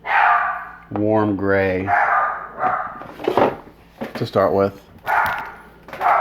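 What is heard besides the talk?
dog barking in the background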